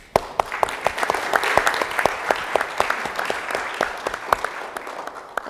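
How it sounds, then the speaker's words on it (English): Audience applause at the World Justice Forum, a session on ethical supply chains, fills the room as a dense, steady clapping from a crowd with sharp individual claps standing out, holding fairly level throughout without speech. "round of applause is inevitable"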